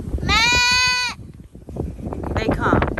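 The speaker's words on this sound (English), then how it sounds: "Look at the sheep." A sheep lets out one clear, loud bleat close by on a walk outdoors, followed by rustling and someone talking.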